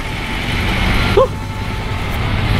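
Heavy road traffic on Alabang Pote Road: a steady, dense rumble of passing vehicles with one brief sharper sound partway through, and no talking.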